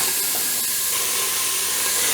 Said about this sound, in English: So that is getting hot now.